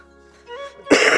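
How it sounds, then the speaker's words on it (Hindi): After a faint hum and a soft vocal murmur, a single harsh, close cough bursts out near the end. "खांसी हो रही"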